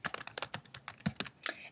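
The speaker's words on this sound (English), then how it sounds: "So I will type the title" Quick, uneven clicks of typing on a computer keyboard, a dozen or so keystrokes in rapid bursts, close and fairly quiet with no talking.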